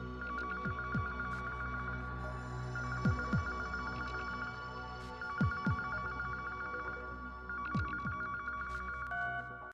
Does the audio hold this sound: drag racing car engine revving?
no